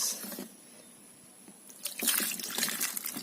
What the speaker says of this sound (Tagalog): Hugasan muna natin itong ating mga sariwang ingredients.